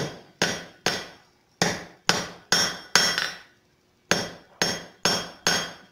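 Hot copper being forged on an anvil: sharp ringing hammer blows in uneven clusters, about ten strikes with brief pauses between groups, each one loud and close with a short metallic decay.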